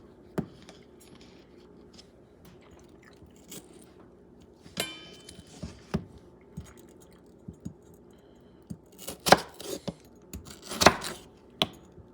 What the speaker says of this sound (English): And now, I'm going to cut it in wedges.